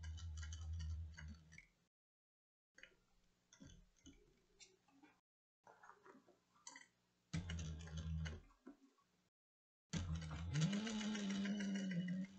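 A home sewing machine stitches fabric for a cross-body sling in bursts separated by silences, with a hum and rapid needle ticking; a louder stretch at the end carries a rising whine.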